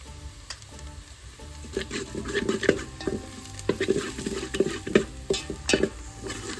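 Onions and cumin fry in a pot as turmeric goes in, giving a steady close sizzle broken by repeated scraping and clinking stirs of a spoon against the metal.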